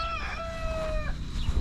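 Chickens cluck and call in a short burst, with a rising crow-like tone, heard close and clear without talk.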